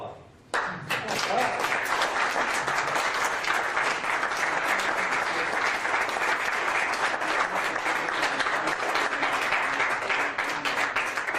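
An audience at a Republic of Texas Congress gathering breaks into loud, sustained applause after a brief pause, with dense clapping that stays full and even for about eleven seconds.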